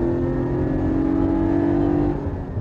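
Car accelerating at full throttle out of a corner during a drifting run, a loud sustained engine drone holding steady pitch close up, easing off at the end.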